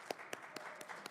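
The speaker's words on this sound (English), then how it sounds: "I didn't pay them to hand clap." An audience at a Durham County board meeting gives brief hand clapping, a few distinct claps in a steady sparse rhythm over about a second in an indoor hall.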